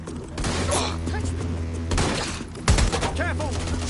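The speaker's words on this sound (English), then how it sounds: "Careful! Shots fired!" Rapid gunshots ring out in Watch Dogs: Legion, a burst of sharp, loud cracks and thuds over game background noise, with a heavier impact near the end.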